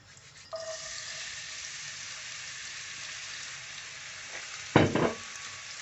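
Small bits of onion sizzling in hot butter ghee, a steady close hiss that swells briefly with a louder crackle near the end, with no talking.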